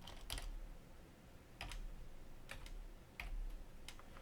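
Computer keyboard keys being pressed, including the Enter key, while working in a CAD drawing program, heard as a few sharp, isolated close clicks spaced about a second apart over a low background hum, with no voices.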